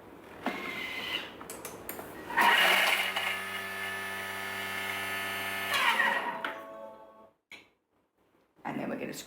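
A Thermomix blends coconut fish soup at speed 8 in a short, loud, steady whirring burst of about three seconds, ending abruptly, with a person talking briefly before and after.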